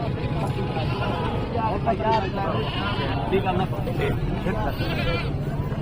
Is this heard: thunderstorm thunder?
no